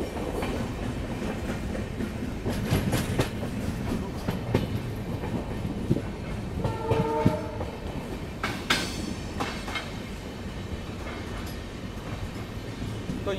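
Bharat Gaurav tourist train running past Junagadh railway station, a steady rumble and rhythmic rail clatter throughout with a brief tonal horn-like burst midway, fairly loud and close with no talk.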